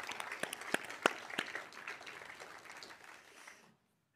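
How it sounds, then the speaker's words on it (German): Audience applause for the host professor at a Swiss public event: a burst of scattered hand claps with a few sharp close claps, thinning out and stopping abruptly near the end. "Auch er freut sich über einen Applaus."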